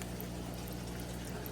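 Water pours steadily into a stingray aquarium being set up, a soft continuous trickle and gurgle over a low steady hum, quiet and close, with no talking.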